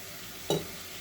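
Mutton pieces dropped into a hot pan for gongura mutton curry, giving a single short burst of sizzle and stirring that fades quickly into a low, quiet background hiss.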